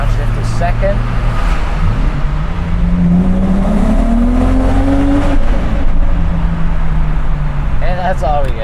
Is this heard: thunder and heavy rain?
no